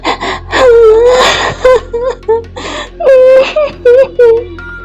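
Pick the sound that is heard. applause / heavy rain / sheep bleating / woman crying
woman crying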